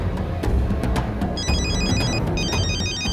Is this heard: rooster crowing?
no